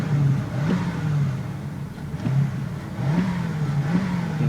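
A 1992 Mercury Grand Marquis engine revving up in repeated surges, its low hum rising and falling several times, close and fairly loud with no one speaking.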